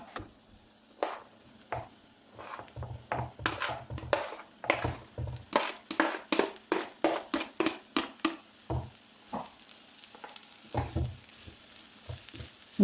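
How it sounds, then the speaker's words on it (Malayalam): Spring onion stalks sizzle in a pan with curry leaves, and rhythmic spatula scrapes and knocks repeat about every half second. The cooking is close and fairly quiet, with no talking. "അതിനുശേഷം നമ്മുടെ ഉള്ളിത്തണ്ട് ഇട്ട് കൊടുക്കാം"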